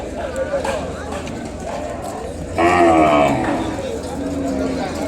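Cattle and young calves at a livestock market at Kodad, with a loud, drawn-out moo rising out of a crowded murmur of voices and animal movement.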